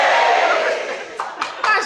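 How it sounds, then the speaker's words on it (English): A church congregation cheers and shouts together in a loud burst that swells and then fades, followed by a few short, separate calls and a thud, with an indoor echo. "and the crowd were cheering."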